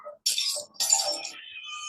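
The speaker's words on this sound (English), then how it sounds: "all the energy in the sound of the singer's voice is transferred to the glass" A glass shatters from a singer's voice, heard as two bright, crisp bursts of breaking glass separated by a short gap, followed by faint tinkling fragments that ring on quietly.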